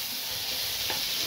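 Butter melts and sizzles in a frying pan alongside steak, giving a steady, close hiss of frying fat with faint stirring movement and no voices.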